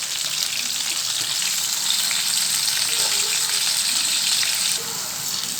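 Chicken roll samosas deep frying in hot oil give a loud, steady, close sizzle and bubbling hiss that runs unbroken throughout, with no talking.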